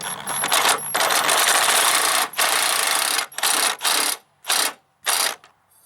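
A fastener being tightened on a Husqvarna 54-inch riding mower deck, heard as rapid ratcheting clicks in several bursts of varying length, close up and loud with brief pauses between.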